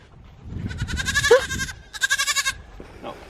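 A baby dairy goat bleats twice close by, each wavering cry lasting about half a second with a short pause between, over faint background noise.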